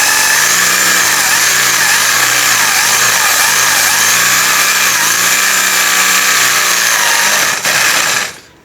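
An electric drill grinds into a metal pipe with a loud, steady whine that wavers in pitch as it speeds up, running continuously for several seconds before cutting off.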